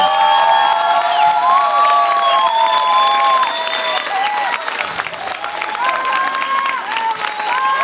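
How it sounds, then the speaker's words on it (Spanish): Concert crowd at a tribute band show applauding and cheering, loud continuous clapping with shrill whistles and whoops throughout, dipping briefly before swelling again. "Un aplauso para él."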